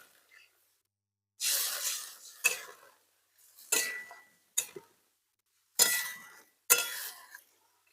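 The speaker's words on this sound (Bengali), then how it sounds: "তো এবার আমি জল দিয়ে দেবো।" Water poured into a pan of pointed gourd (potol) that has been fried down for a Bengali vegetarian potol posto curry, answered by several loud bursts of sizzling and hissing that each flare up and fade, with short pauses in between.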